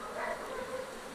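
Honey bees buzz in an opened beehive during a winter inspection, a close continuous droning hum with wavering pitch and no speech over it.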